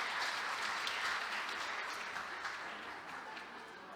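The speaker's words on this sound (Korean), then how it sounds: "큰 박수 부탁드리겠습니다." Congregation applause during a Sunday morning church service at an awards presentation, a sustained, fairly faint wash of clapping that slowly tapers off, with no voices over it.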